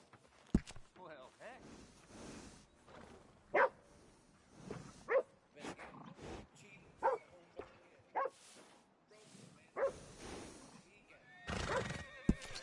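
Horse whinnying in the Western game Red Dead Redemption 2, repeated sharp neighs and snorts among scattered hoof clops, heard close with game speech around it.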